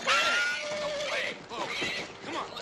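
A horse neighs loudly and close by, a shrill, wavering whinny followed by shorter, quavering repeats in a dramatic outdoor scene from a 1972 TV series.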